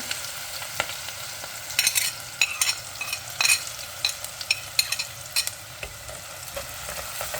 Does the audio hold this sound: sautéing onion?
yes